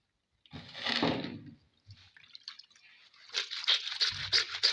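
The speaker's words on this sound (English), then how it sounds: "So let's wash this hanky with this detergent." A handkerchief being washed by hand with homemade powdered detergent: wet squishing and dripping, a dense burst of sloshing, then quieter rubbing and more splashy squelching near the close.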